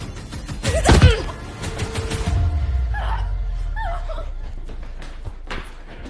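A person imitates a dog, letting out loud yelping barks and then softer whimpering yips, close up over a low background rumble in a dramatic scene.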